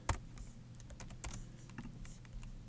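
A computer keyboard is typed on in short quiet bursts of close key clicks, with one sharper tap at the start, over faint room hum and no speech.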